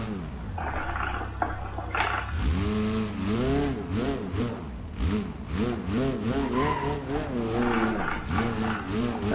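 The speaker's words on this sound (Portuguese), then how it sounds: "É azar, tô indo com o pneu furado." A car in BeamNG.drive runs on a flat tire, its engine revving and rising and falling in pitch with scraping, skidding tire noise, under continuous talk.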